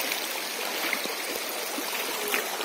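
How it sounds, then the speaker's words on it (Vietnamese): A small stream beside farm fields flows steadily, a continuous close rushing and trickling wash of water with no voices. "đây là cái suối"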